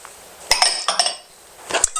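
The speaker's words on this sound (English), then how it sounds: "Give this a whisk" An egg is whisked into a cup of buttermilk in a bowl, with close, bright clinks of the whisk against the bowl in two quick clusters separated by a short pause.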